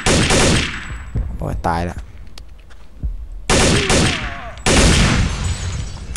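Loud gunfire in the video game Counter-Strike Zero, with several bursts of rapid shots separated by short pauses. A voice speaks between the volleys.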